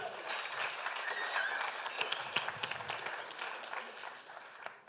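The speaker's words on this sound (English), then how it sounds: "Applause, please!" An audience at a tech talk on open source models applauds, dense steady clapping that holds and then thins out toward the end, moderately distant, with faint voices underneath.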